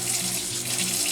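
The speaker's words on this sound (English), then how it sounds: "We're just adding water." Tap water runs steadily from a faucet into a container for pancake batter, a close, continuous hissing splash with no voices.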